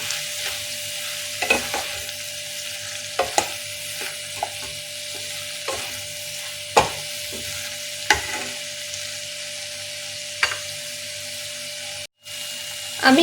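Tofu frying in a pan with a sprinkling of ground black pepper, stirred with a utensil: a steady hiss runs throughout while several sharp scrapes and knocks punctuate it at irregular intervals, close and fairly loud.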